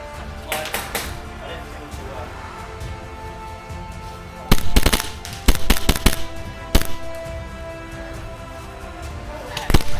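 A Cthulhu airsoft gun fires during a game, giving sharp snapping shots in a quick cluster midway through, plus a few scattered pops, under outdoor background noise and people talking.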